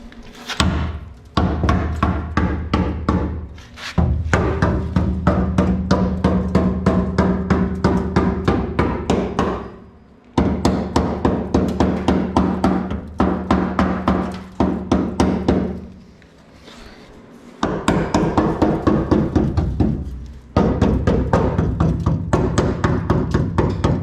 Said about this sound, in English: Gotta take the old hammer to it.